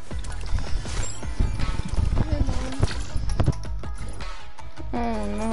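Horse hooves clip-clop in a video game, a steady trotting patter at moderate level mixed with game sounds and music, while players talk over it.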